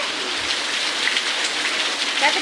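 Rain falls steadily and close by, a dense hiss of drops hitting surfaces. It stays loud and even throughout, with no talk over it.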